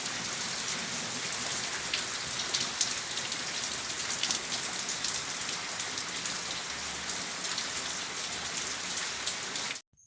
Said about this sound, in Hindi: धीरे धीरे आते आते बहुत ही ज़्यादा बारिश आने लगी